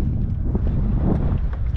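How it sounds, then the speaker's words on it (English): Strong wind buffets the microphone outdoors, a loud continuous low roar with gusty fluctuations and no talk. "it's pretty windy out here"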